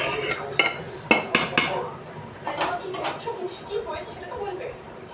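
Rice stirred in a pot makes irregular metallic clanks and scrapes of a spoon against the vessel, loud and close at first, then lighter taps, with a voice talking in the background.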